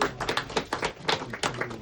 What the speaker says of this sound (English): may we have a round of applause for Grant Hodge